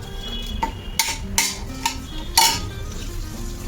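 Two bay leaves and four peppercorns roasting in a pan for Maharashtrian misal, a soft sizzle underneath several sharp clinks and scrapes of a utensil against the pan.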